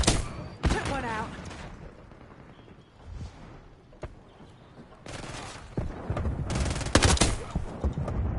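Bursts of automatic gunfire from the FragPunk video game crack loudly at the start and again in heavy rapid volleys toward the end, with a quieter stretch in between where a voice talks.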